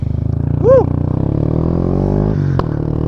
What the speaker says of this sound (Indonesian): Okey, ni kita naik motor Y15 Grey V2 King Umar Arwan.